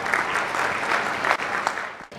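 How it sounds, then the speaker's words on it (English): A crowd at a management symposium claps for award winners from a college in a short, busy burst of applause that thins out near the end. "Big round of applause for the winners."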